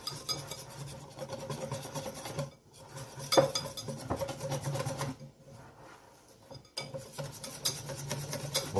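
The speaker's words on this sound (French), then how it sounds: "on va bien mélanger. Pour récupérer le miel qui est au fond." A utensil stirs and scrapes a honey marinade in a bowl for caramelised pork ribs, giving a continuous close rasping and clinking with a few short pauses.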